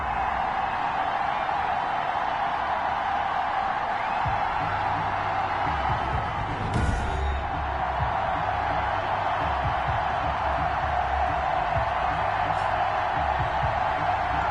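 Stadium crowd noise from a Buffalo Bills versus Kansas City Chiefs football video game, a steady loud roar of cheering fans that stays constant throughout, with a brief louder swell midway.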